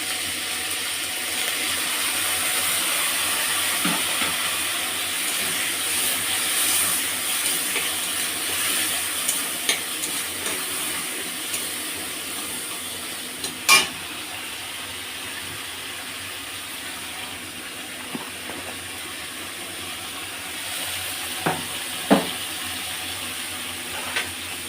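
Spices being stirred and fried in a pan for a home-cooked Bengali dish, a little water added to keep them from burning: a steady low sizzle with faint scraping of the spoon and a few sharp clinks, no talking.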